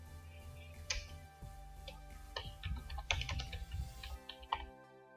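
Scattered keystrokes on a computer keyboard as a phone number is entered into an online booking form for Jio GigaFiber broadband, close and fairly quiet clicks spaced irregularly over a faint steady hum.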